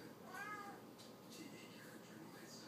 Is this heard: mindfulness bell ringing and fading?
no